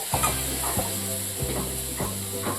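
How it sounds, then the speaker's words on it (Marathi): Tomatoes sauté in fried spices in a pan for a whole masoor curry, a steady sizzle broken by regular scraping stirs roughly every half second, with no talking. "टोमॅटोही परतून घ्यायचे"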